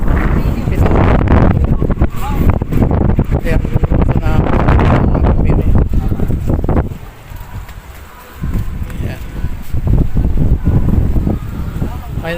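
Loud, blustery wind on a lakeside baywalk in San Antonio, Bay, Laguna, Philippines, buffets the microphone with rumbling low-end gusts, easing briefly before picking up again; muffled voices are faintly present beneath it.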